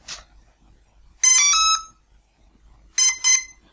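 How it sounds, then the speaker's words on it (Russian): Electronic beeps from an RC model aircraft motor speed controller during throttle calibration: a chirp, then a long beep, then two quick beeps, loud and close with silence between. "Вот после первых двух пиков переводим газ в ноль. Мотор просигнализировал, что он готов к запуску."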